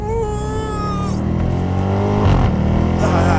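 A 2021 Audi RS7 twin-turbo launches hard and accelerates, its engine note rising in a loud, swelling roar with a climbing whine.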